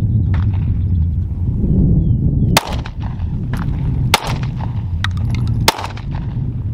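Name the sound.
gunshots from Smith & Wesson M&P Shield Plus pistol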